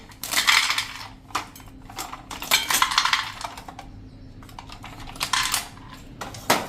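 Ice cubes placed onto a plate in a home kitchen, a series of crisp clinks and rattling knocks in irregular bursts, fairly close and quiet, with no talk.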